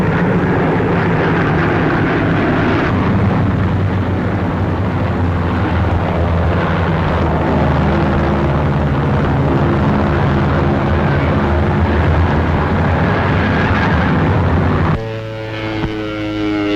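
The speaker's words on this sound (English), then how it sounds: "And now a snaky string of lightnings moves into the battle. They are the fighters that cover the bombers on deepest penetrations into Germany." Loud, sustained droning of WWII P-38 Lightning fighter engines during a bombing raid over Germany, a steady rumbling hum with shifting tones that changes character near the end.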